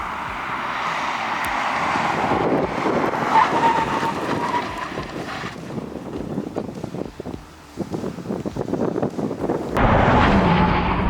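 A Porsche Taycan electric car accelerating hard on the Inje Speedium race track, a loud rising whine under heavy wind rush, with the rush easing midway before surging again near the end.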